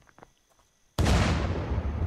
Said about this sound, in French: Et je vais voir l'explosion.